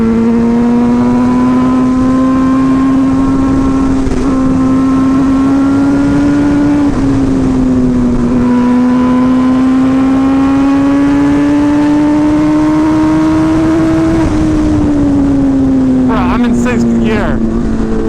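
A hyper naked motorcycle engine drones loudly and continuously while riding, its pitch climbing slowly and dipping briefly during gear changes, with wind noise underneath.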